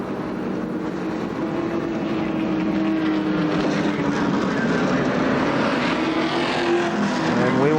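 Stock cars circling Winchester Speedway during a race, a dense continuous engine roar that builds slightly as the pack passes, loud and sustained with no speech.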